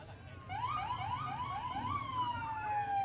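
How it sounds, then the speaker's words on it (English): A police car siren wails up close outdoors at a custom car sundown cruise, rising in a few quick repeated yelps before settling into a long, steady, slowly falling tone, loud over low crowd and engine rumble. "And that, I think, is a siren"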